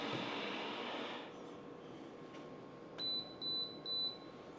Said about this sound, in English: it beeps when it's done